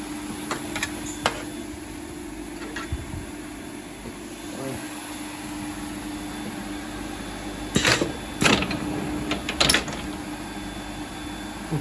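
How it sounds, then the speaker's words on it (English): A Foggiato Strobel KA-ED sewing machine motor runs with a steady mechanical hum, and gear-like ticks and a few louder clattering bursts near the end break through it. "Broken the thread and the machine stopped."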